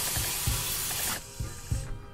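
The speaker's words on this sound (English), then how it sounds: "Listen to that spray." A spray bottle hisses in a long, close burst with rhythmic trigger clicks, then stops, followed by a few more mechanical clicks and softer pumps.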